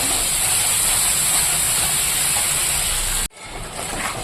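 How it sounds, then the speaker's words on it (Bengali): Spice paste with nuts frying in a pan before fried prawns are added, giving a loud, dense, continuous hiss that cuts off abruptly near the end and leaves a quieter sizzle. "তো মশলাটা মোটামুটি কষানো হয়ে গেছে"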